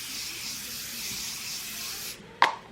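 A makeup setting spray gives a continuous fine hissing mist for about two seconds, close and fairly loud, then stops, followed by a sharp click or tap as the bottle is set down.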